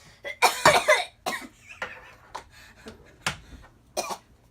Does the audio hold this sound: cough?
yes